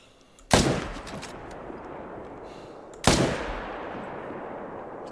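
Two loud, sharp rifle shots ring out about two and a half seconds apart during a wolf hunt in the video game Call of the Wild, each followed by a long echoing outdoor tail.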